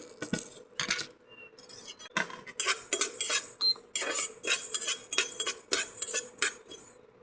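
Coriander seeds dry-roast in a pan for mango pickle while a utensil stirs them, making close, rhythmic metallic scrapes and clinks against the pan in quick, repeated strokes.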